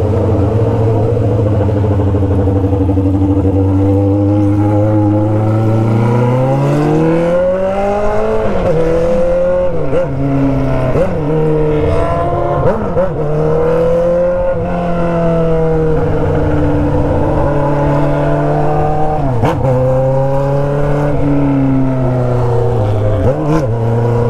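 A worn Honda Hornet motorcycle engine with an Atalla exhaust runs loudly up close, idling roughly then revving up and down repeatedly with a rough, uneven growl throughout.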